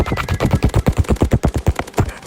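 Rapid automatic gunfire in the Roblox game The Hunt: Mega Edition, a loud, close burst of about twenty evenly spaced shots over two seconds, heard alone without talk.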